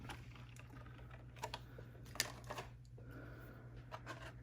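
Lexan RC body shell for an SCX24 Baja Beetle being trimmed by hand, quiet close snips and small clicking cuts scattered irregularly over a low steady hum.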